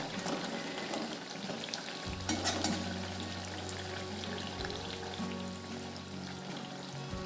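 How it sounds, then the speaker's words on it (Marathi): Colocasia leaf bhaji fry in hot oil with a steady, dense crackle, moderately close, while a low hum runs beneath from about two seconds on; no one speaks. "अळूच्या पानांची भजी पण छान तळल्या जाते"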